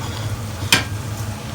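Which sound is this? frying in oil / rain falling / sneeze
frying in oil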